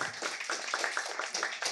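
An audience applauding at a talk, a dense, close flurry of hand claps with an uneven rhythm that continues without interruption.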